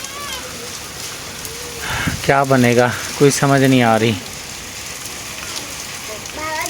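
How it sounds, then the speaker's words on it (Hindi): Heavy rain pours steadily outside during a storm, a constant hiss running throughout while someone speaks over it midway. "बारिश भी तो काफ़ी तेज़ आ रही है ना बाहर"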